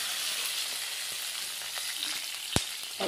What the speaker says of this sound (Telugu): పచ్చిమిరపకాయలు వేసి వేయిస్తున్నాను